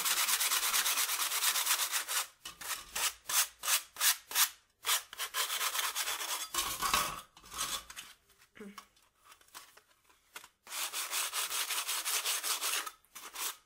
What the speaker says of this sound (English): and I'll sand it